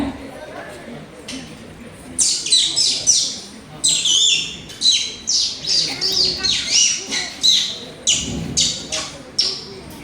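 A performer imitates a peacock's call with his voice before a live audience, giving a run of shrill, rising squawks in quick repeated bursts, close and loud, over a busy room murmur.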